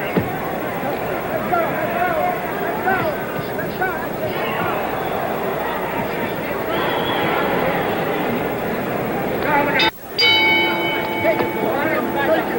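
A boxing bell clangs once to start round 9 of a heavyweight bout at the San Diego Sports Arena. It cuts loud through steady crowd noise and commentary, then rings on with a long metallic decay.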